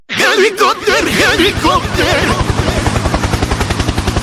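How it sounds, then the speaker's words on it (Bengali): A helicopter in an open-world city video game lifts off with loud, rapid rhythmic rotor thumps pulsing evenly and close, while a voice sounds over the first couple of seconds. "আজকে চালাবো হেলিকপ্টার।"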